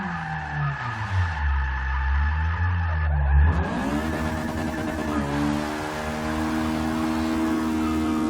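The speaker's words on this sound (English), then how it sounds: "Let's hit a little e-brake." A Honda Integra Type R engine roars and shifts pitch as the car slides under the handbrake, tires squealing with a sustained, wavering whine, the engine revving up and holding a high drone afterward.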